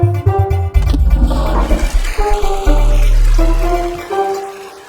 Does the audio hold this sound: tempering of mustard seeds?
no